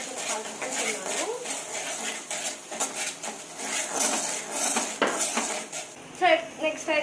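Ground onion paste is stirred in hot oil in a home kitchen while making chicken curry, giving repeated metal-on-pan scraping and clinking taps with a soft sizzle under them. A voice talks over much of it.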